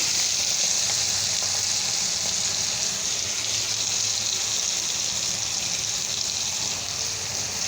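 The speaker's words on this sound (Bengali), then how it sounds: "লঙ্কা বাটা দিয়ে দিলাম, এখন থেকে লঙ্কাটা ভাজবো।" Chili paste with turmeric and salt fries in a pan over cumin and nigella seeds, giving a steady, close, watery hiss and sizzle that runs unbroken without talk.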